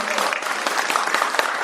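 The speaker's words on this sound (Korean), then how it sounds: "우리 친구들 잘했으면 박수 한 번만 부탁드릴게요." A school audience claps for a children's musical performance at a school research report meeting, steady dense applause filling the space, fairly loud and close, with no talk over it.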